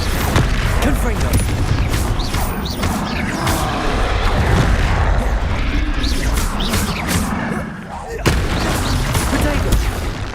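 Explosive blasting spell in the video game Hogwarts Legacy, heard as a loud, continuous stretch of roaring bursts and crashing impacts that fills the clip, with a brief dip near the end before the blasts resume.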